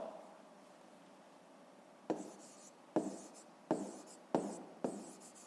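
Pen strokes scratching across paper in a school exercise book during a fifth-grade maths exercise, five short rhythmic writing bursts after a quiet start, close and fairly soft with no talk.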